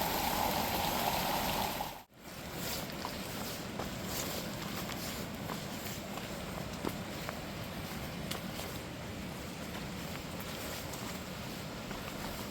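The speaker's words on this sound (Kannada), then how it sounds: "ಇಲ್ಲಿಂದ ಕೂಡ ನೀರು ಹರಿತಿದೆ." Water flowing along a rocky path toward a waterfall at Harwada near Ankola, a steady broadband rush close by, with a brief dropout partway through and faint footsteps over it.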